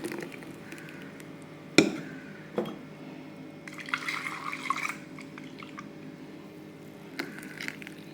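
Water rinsed from a mixer jar is poured into a pot of ground Madurai-style watery chutney, giving sharp clunks of the vessel followed by brief splashing, gurgling pours at close range.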